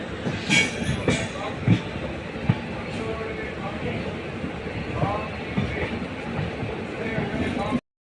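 Superfast express train pulling out of Mysore station on the Mysore to Bangalore line, a steady near rumble of rolling coaches with occasional wheel knocks and clatter, faint background voices throughout.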